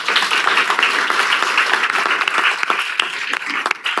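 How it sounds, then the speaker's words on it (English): A council meeting audience applauds for students, a steady wash of many hands clapping together at moderate loudness, holding throughout. "So just a round of applause."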